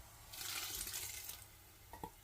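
Hot tempering poured into a pan of sarson ka saag gives a loud hiss and splatter that fades after a second, followed by a couple of soft clunks of the pan.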